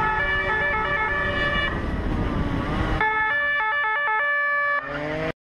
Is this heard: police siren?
yes